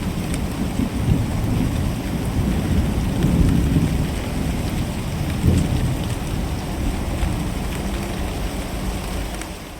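Heavy rain pours down steadily with low rumbling thunder rolling beneath it, swelling and easing across the storm, a loud, continuous downpour with no voices.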